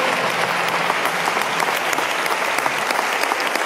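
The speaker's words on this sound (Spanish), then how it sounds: "¿Puede darle un aplauso al Señor?" Congregation applause inside a church in Guatemala during a sermon, heard as a steady, dense wash of clapping from many hands that holds at an even level throughout.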